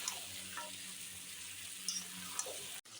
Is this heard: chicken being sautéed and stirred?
yes